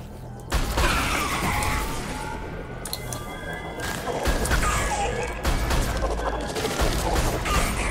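Submachine gun fire in the video game Mass Effect 2 comes as dense, crackling bursts mixed with crashing impacts and other combat effects, loud and busy, with a voice faint underneath.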